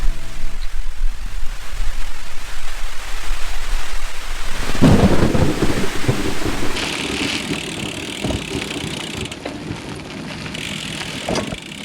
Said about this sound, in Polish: Właśnie złapał nas pierwszy deszcz na trasie